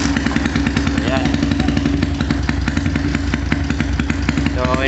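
A modified Yamaha Sniper 201cc motorcycle engine, untuned, with +8 crankshaft, 62mm bore and 20/22 valves, runs with a loud, steady clattering idle throughout, close up.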